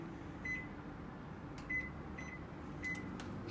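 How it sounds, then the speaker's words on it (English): A quiet steady microwave oven hum runs throughout, with a few short high beeps. "So now we're just gonna pop it in the microwave."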